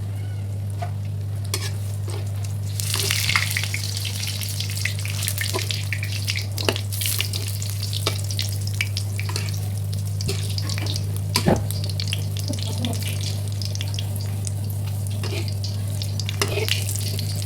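Frozen food frying in oil in a pan on low heat, a steady soft sizzle and crackle with scattered sharper pops, close and continuous with no talking.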